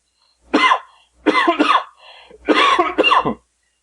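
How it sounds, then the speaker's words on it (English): A voice acts out a coughing fit: three clusters of harsh, loud hacking coughs close to the listener, with short pauses between them. "How long have you had that cough?"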